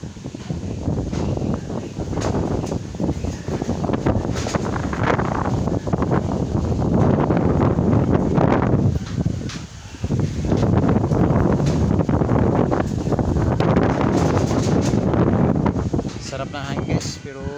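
Strong gusting wind roars into the microphone throughout, with heavy rumbling buffets rising and falling; faint voices may be buried underneath.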